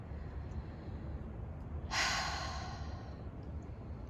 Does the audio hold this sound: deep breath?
yes